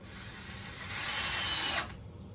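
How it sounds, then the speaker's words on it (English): A power driver sending a screw through a wooden frame, one steady whirring burst that rises slightly and then cuts off sharply, close and moderately loud, with no talking. "We're going to gently drive the screw through till we see it on the other side, and then line it up with the pilot hole and drive it home."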